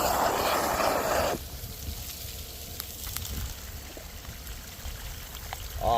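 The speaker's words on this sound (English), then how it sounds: "Here's our water for high banking. Sluice is running." A pump at minimum power sends water through a sluice box for high banking at home. A loud rushing burst opens, then a steady, softer stream flows on alone.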